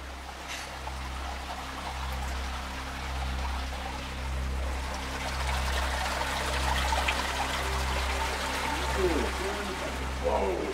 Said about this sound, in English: the water trickling behind us here just goes down into the floor